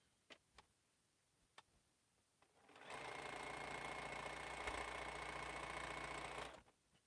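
A sewing machine stitches quilt fabric in a steady, even whir lasting about three and a half seconds, preceded by a few soft, faint clicks, in a quiet room.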